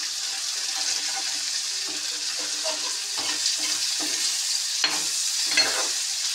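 Fish fat frying in oil in a pan, a steady close sizzle throughout with occasional stirring scrapes and small pops.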